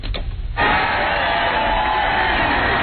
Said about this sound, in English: Here's some of the applause.